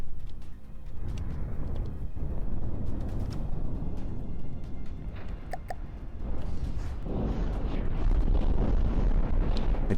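Missile volleys exploding in the naval combat game From the Depths: a dense, continuous roar of rumbling blasts that stays loud throughout and swells further in the closing seconds.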